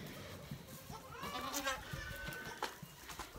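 A goat on a homestead bleats a wavering call near the middle, moderately close, over a background of farmyard noise and some faint bird chatter.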